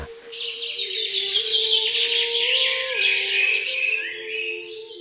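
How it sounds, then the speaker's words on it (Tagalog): Many birds chirp and twitter together continuously, a dense bright chorus close by, with a steady low hum running underneath. "Nang biglang may narinig na mga ibon si Atan na nagliliparan habang umuulan pa iyon"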